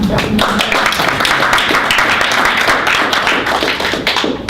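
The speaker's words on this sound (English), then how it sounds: "I think we owe you a big hand of applause" Close, lively applause from a small audience at a graduate presentation, with crisp, uneven individual claps that keep up steadily throughout.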